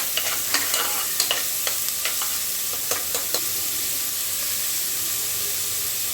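Onions sautéing with salt in a pan give a constant loud sizzle, broken by clustered spatula scrapes and taps in the first half before settling into even frying hiss, no voices.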